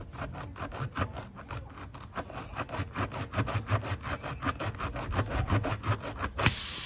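A hand-held repair-kit reamer is worked in and out of a punctured tyre hole, giving a rhythmic rasping scrape that repeats in quick even strokes, close and loud, with no talk.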